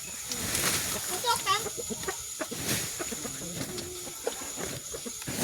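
Chickens cluck and call close by in a rural farmyard, scattered bursts over a hissy background while people talk nearby.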